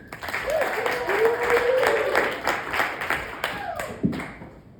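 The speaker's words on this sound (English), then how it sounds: "Please give a big round of applause" Audience applause and cheering at a comedy club in Fort Collins as a comedian is welcomed, steady dense clapping with voices mixed in, fading near the end.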